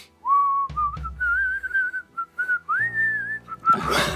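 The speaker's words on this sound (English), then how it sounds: "we would hear whistling Danny Boy" A melodic tune like Danny Boy is whistled clearly and close, a single pure line sliding between sustained notes, with a few soft knocks and a burst of noise at the end.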